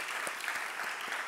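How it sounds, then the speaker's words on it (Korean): A church youth service crowd claps steadily, a brief burst of applause heard from a short distance with no talking. "박수로 축하할까요?"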